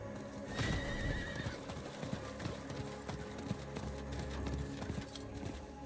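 A horse ridden in Diablo IV gallops with continuous clip-clop hoofbeats and snorts, and a loud whinny near the start, all fairly close amid game sounds.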